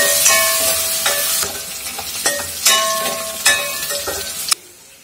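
Onions fry in hot oil for sambar, a close, loud sizzle broken by several rhythmic stirring scrapes and clinks of a utensil against the pan, cutting off abruptly at the end.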